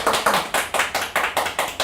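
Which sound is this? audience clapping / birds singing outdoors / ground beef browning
audience clapping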